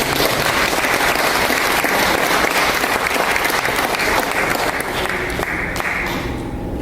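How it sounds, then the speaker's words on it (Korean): A church congregation gives warm applause to an elderly choir at a memorial worship service, loud, dense clapping that holds steady for several seconds before thinning toward the end. "뜨거운 박수 한 번 더."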